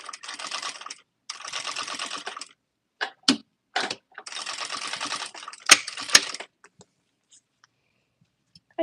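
A sewing machine stitches down the sides of a fabric tote bag in short runs of fast, even whirring, broken by pauses, a few clicks and brief back-stitches, then silence.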